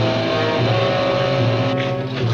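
Motor spinning a pedestal in a Gamera monster film scene, a continuous loud steady hum with a constant droning pitch and no breaks, close and unchanging for the whole stretch.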